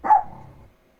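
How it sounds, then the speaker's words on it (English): A single dog bark rings out loud and close, then trails off quickly into silence, played as an animal-sound quiz on a morning radio show. "It's a dog."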